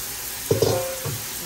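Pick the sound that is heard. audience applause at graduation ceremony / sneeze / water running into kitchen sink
water running into kitchen sink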